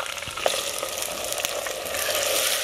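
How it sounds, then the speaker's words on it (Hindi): Chopped tomatoes frying with onion and ginger garlic paste in a pan for a mutton curry, a loud, dense, continuous sizzle with a few scraping stirs near the start. "टमाटर और प्याज का पेस्ट तैयार होने तक भून लेंगे।"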